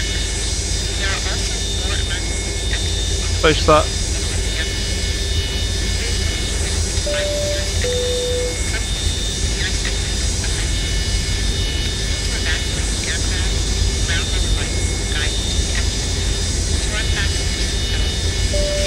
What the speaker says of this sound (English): Listen to that, folks. Starting engine number 2.